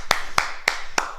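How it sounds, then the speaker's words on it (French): Four sharp claps in an even rhythm, roughly a third of a second apart, close and bright, mark children applauding after the salute in a ninja class. "On fait le salut et on s'applaudit."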